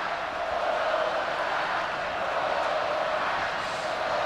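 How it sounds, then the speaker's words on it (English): An Alabama football stadium crowd chanting Roll Tide during the 2003 home game against Oklahoma: a steady, distant roar of massed voices, even and unbroken throughout. "this crowd never gives up either. They're still chanting Roll Tide."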